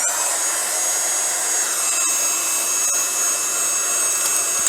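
A heat tool runs steadily as a continuous loud whirring hiss, drying a watercolour craft piece, with no break over several seconds.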